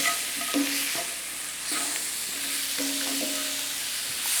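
Pumpkin and peanuts being stirred in a hot pan, with a spoon scraping and knocking against the metal at a steady pace over a bright, constant sizzle.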